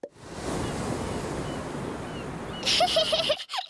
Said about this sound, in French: Si tu mets le coquillage à ton oreille, tu pourras entendre la mer.